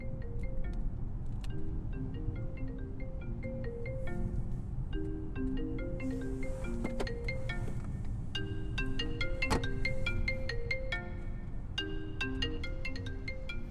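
A mobile phone ringtone plays a repeating melodic pattern for about fourteen seconds, moderately quiet, inside a parked car with faint background noise and no speech.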